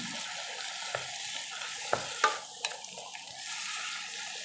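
Vegetables and bihon rice noodles sauté in a pan for sotanghon gisado, a soft steady sizzle with a few sharp utensil scrapes and taps in the middle; quiet, no talking.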